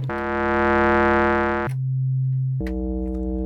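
A buzzy sawtooth synthesizer tone holds steady, drops to a lower plain triangle-wave pitch, then returns to a rich buzzing sawtooth tone, each change clean and abrupt.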